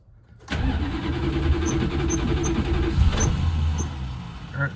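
A 1965 Plymouth Fury with no choke hooked up catches after a brief crank and settles into a loud, rough, steady idle nearby, with small surges and faint metallic ticks along the way.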